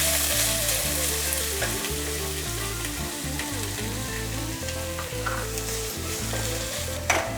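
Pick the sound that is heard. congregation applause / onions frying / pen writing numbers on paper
onions frying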